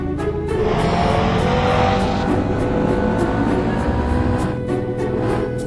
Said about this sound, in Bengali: তারপরে মোটর সাইকেল নিয়ে আমাদের পাড়ে উঠতে হবে